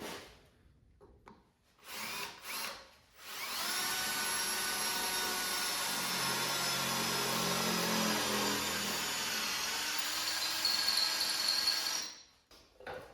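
A power drill whines steadily into the metal frame of a rotten 1975 Dodge truck for several seconds, loud and close, with brief handling noises before it starts and after it stops.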